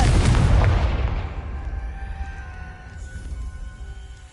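A Confringo blasting spell in Hogwarts Legacy goes off as a loud, booming explosion up close, then a rumbling tail fades over several seconds with a few faint tones ringing underneath.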